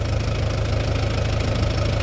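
A tractor engine idles and runs steadily in a farm field being prepared for soybean sowing, giving a loud, continuous low rumble with a regular knocking pulse that holds throughout, with no speech.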